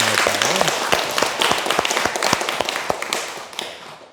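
A family gathered for a 49th-day Buddhist memorial rite claps their hands, a run of sharp, distinct claps in a fairly steady rhythm that fades out near the end.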